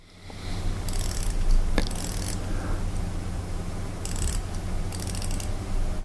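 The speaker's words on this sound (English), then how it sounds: "Let's listen to the bezel." The rotating bezel of an Orient Mako 3 dive watch turns in a few short bursts of fine, crisp ratcheting clicks, heard up close over a constant low background hum.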